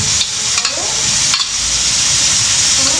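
Food frying in hot oil, a loud, close, continuous sizzle with a couple of brief stirring scrapes near the start.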